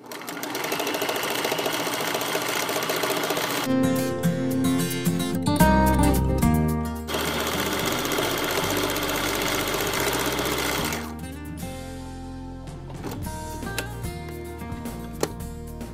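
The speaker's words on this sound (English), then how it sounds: "hear the sound of the sewing machine" A sewing machine runs in rapid mechanical bursts, stopping and starting several times, close and fairly loud, with no talking.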